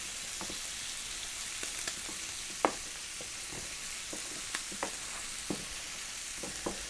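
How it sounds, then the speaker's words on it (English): Bacon frying in a pan gives a steady, close sizzle, with scattered sharp crackles and pops rising over the hiss and no voices. "give that bacon a stir"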